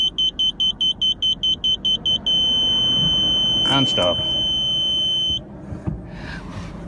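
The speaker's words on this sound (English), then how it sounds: "single beep, double beeps," Rear parking sensor of a VW Polo 6R beeping while reversing, a rapid run of short single beeps merging into a steady tone, loud and close, with brief talk near the end.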